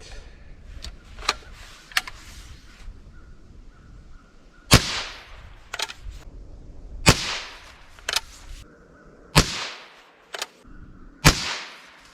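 A .22 LR rifle firing Federal Punch ammunition outdoors, sharp cracks spaced irregularly with two or three close shots standing out among fainter pops, and quiet stretches between them.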